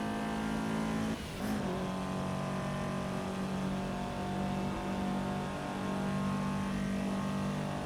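A tuned Toyota AE86 in a racing video game, its engine holding a steady, buzzy high drone with one brief dip early on before settling back to a constant hum, with no voices.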